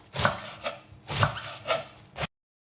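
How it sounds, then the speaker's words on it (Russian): A knife strikes a cutting board in about five quick, uneven chopping strokes, close by, as cabbage is shredded; no one speaks. "Шинкуем капусту."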